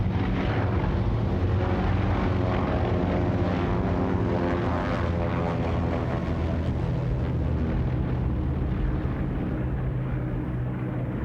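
A Martin Mars flying boat in flight, its big propeller engines droning in a loud, steady roar with a low throbbing hum that holds throughout, with no voices.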